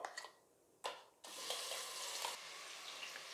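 Onion, ginger, garlic and green chilli paste hits hot oil with a sudden burst, then settles into a steady, close sizzle for a mushroom biryani base, with no voices over it.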